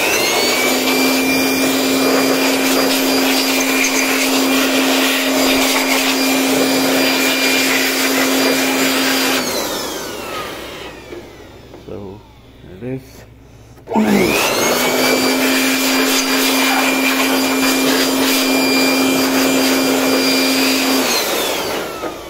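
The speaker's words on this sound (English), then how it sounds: "So we got the blow dryer. All I'm going to do is blow dry." A handheld blow dryer drying an electric scooter headlight (Yadea Metro E8S Pro) runs loud and steady with a strong whine, cuts out for a few seconds with some handling noise, then starts again at full power.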